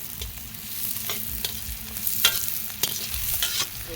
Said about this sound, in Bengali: পেঁয়াজ ভাজা চলছে আমাদের।